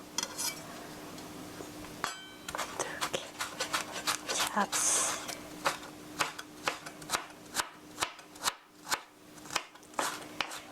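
A knife cuts thin julienne strips of carrot on a board for cheese hamburger steak, with sharp, evenly spaced chops that speed into a regular rhythm while a voice speaks briefly at first.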